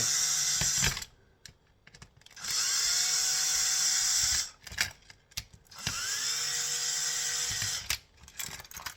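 A cordless drill whirs in two sustained bursts of a few seconds each, close by, with short gaps of handling noise and clicks between them.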